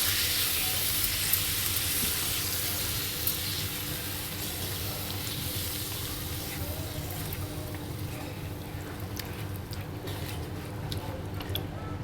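Yogurt stirred into a sizzling butter chicken masala in a pan over a low flame, a continuous crackling fry with faint clicks and scraping from the mixing.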